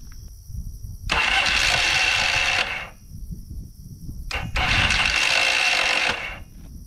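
A Yamaha XS650 motorcycle's faulty electric starter cranks the engine in two loud, grinding bursts of about two seconds each, separated by a pause and a brief click, with no sign of the engine catching.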